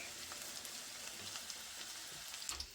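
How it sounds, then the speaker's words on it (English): Steady, dense sizzling of cabbage patties frying in a pan, a continuous crackling hiss with small pops, no voices. "While that's frying up"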